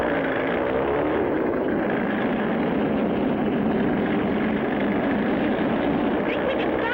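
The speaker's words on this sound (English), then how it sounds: "That's a specially built oil tanker plane." A cartoon oil tanker plane taking off, its engine a steady, loud droning roar throughout, with no voices heard.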